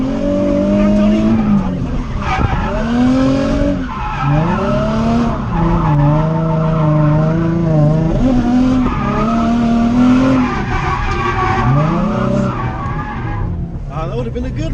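Nissan 350Z drift car skidding with tires squealing in long, wavering, rising and falling tones over a steady engine roar, heard loud and close from inside the car for the whole stretch.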